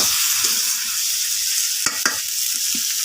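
Mung dal sizzling steadily in a hot pan, a continuous frying hiss broken by a couple of sharp stirring scrapes partway through.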